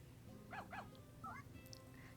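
In Story of Seasons: A Wonderful Life, a game dog gives two quick yips, then a whimpering yelp and a soft whine, faint over a quiet background.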